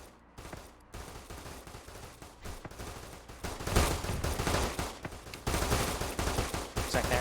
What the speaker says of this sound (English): Looks like they're now firing at that aircraft.